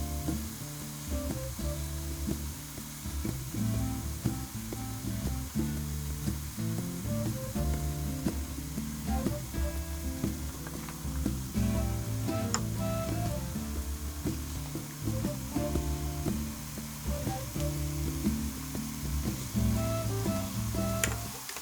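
Mushrooms cook in a pot for vegetarian mushroom rice, giving a steady, continuous sizzle at an even level over a sustained tonal backdrop, with no one speaking.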